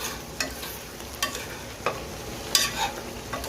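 A spoon scrapes and clinks in a cooking pot of chicken kaldereta, a few sharp stirring knocks scattered over a soft, steady sizzle.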